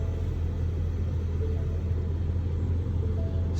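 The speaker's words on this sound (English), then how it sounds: "Now we're in the truck, about to start it up." A 2019 Ford Ranger truck engine running at a steady idle, heard from inside the cab as a continuous low rumble with no talk over it.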